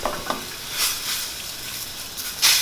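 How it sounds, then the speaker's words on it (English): Utensil stirring and mashing tomato paste in a hot sauté pan, a soft steady sizzle with scraping strokes and a brighter burst of frying noise near the end, no voices. "we're going to mix in the tomato paste until it's basically fully dissolved"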